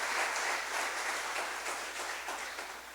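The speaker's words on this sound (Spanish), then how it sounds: "Dele un fuerte aplauso al Señor en esta hora." A church congregation claps together, a soft, diffuse roar of many hands heard at a distance, fairly quiet and steady, gradually tapering over a few seconds.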